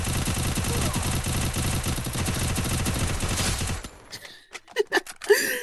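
Dense, loud automatic gunfire rattles continuously in the Free Fire mobile battle game, then cuts off into a few sparse clicks and short effect sounds.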